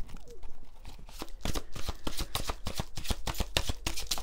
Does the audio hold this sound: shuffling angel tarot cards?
yes